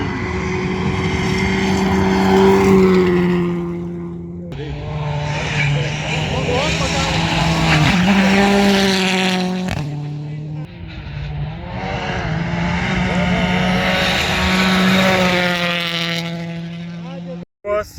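Powerful rally car engines roar at Rally Aukštaitija, a loud sustained drone with rising and falling revs across several passes, briefly cutting out near the end, while people talk over it.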